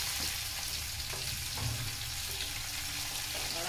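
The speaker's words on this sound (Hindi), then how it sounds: "तो इसमें हम अब प्याज डाल देंगे।" Onion drops into hot oil with browned cumin for rajma, giving a steady dense sizzle, close and fairly faint, with nobody speaking.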